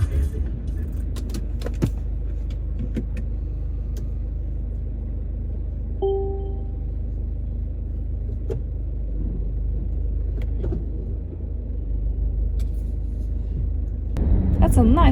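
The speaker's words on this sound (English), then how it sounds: "That's a nice car to drive, I must say." A car cruises along with a steady low engine and road rumble throughout, a few faint clicks and knocks inside the cabin, and a brief louder swell at the end.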